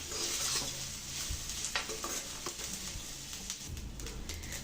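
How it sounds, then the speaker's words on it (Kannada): Jeera rice being mixed with coriander leaves in a pan, soft scraping and stirring rustles, quiet and close, with faint sizzle-like texture throughout. "ಇವಾಗ ನಾವು ಚಿತ್ರಾನ್ನಕ್ಕೆ ಕಲಿಸ್ಕೊತೀವಲ್ಲ ಆ ಥರ ಕಲಿಸ್ಕೊಬೇಕಾಗತ್ತೆ"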